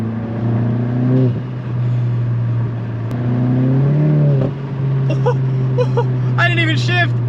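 A modified Volkswagen MK7 GTI engine revs and rises in pitch, drops back, then revs again, followed by sharp crackling exhaust pops near the end, loud and close.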